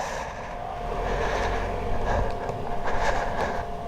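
A train passes somewhere below a hillside road in Italy, a steady, loud rumbling roar with rolling rail clatter that holds throughout, heard without talking.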